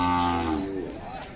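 A Khillar bull at a Sangola cattle market gives one loud, close moo with a falling, drawn-out tone, and market voices murmur faintly in the background.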